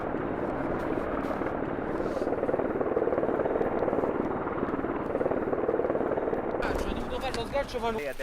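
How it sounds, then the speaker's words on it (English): Military helicopter rotors thump in a loud, steady drone during a military exercise, with a voice breaking in over radio-like noise near the end. "This is done then for the other Helicopters are coming."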